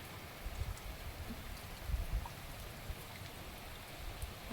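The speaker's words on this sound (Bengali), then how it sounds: "আর এই বৃষ্টি কখন থামবে কি জানি" Heavy rain falls near a fish pond in a soft, continuous hiss of pattering drops, with occasional low thumps mixed in and no voices.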